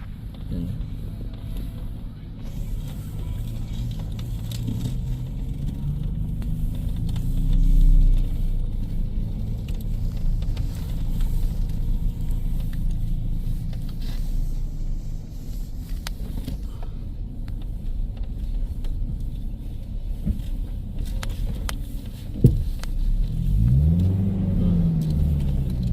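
A Toyota Innova drives along a partly paved road on an alternative route between Banjarbaru and Batulicin, with a steady low engine rumble and tire drone inside the cabin and a brief engine swell near the end.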